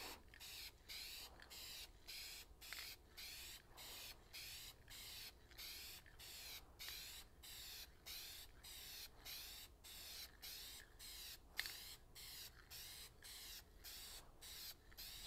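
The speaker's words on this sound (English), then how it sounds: "She's spraying good now, though." A spray gun runs in a garage with a steady, faint hiss broken into regular rhythmic pulses throughout, plus an occasional small knock, with no voices.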